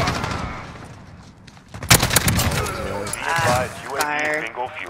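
Rapid gunfire bursts from the video game Modern Warfare, a sharp loud volley near the middle followed by further shooting, with people talking over it throughout.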